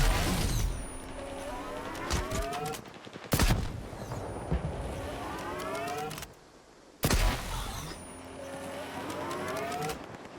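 Gunfire in a shootout with bandits in the STALKER 2 video game, in the exclusion zone near the Chernobyl plant: rapid clusters of shots punctuated by two loud blasts, with no talking.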